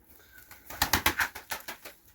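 Pakistani breed pigeons beat their wings in flight, a quick run of about eight sharp flapping claps in a close burst after a quiet start, then fading out.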